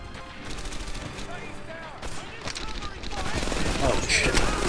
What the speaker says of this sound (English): Oh, shit. MG42, get down.